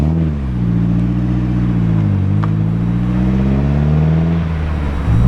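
A Vauxhall Corsa B fitted with a swapped-in Saab engine sits close by, idling, then rises into one sustained rev and settles back down near the end.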